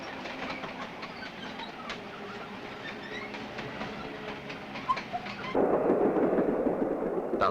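A train running on a railway line, carrying AMX-13 light tanks by rail, rumbles steadily and continuously, with a louder, denser roar setting in toward the end as it passes close by.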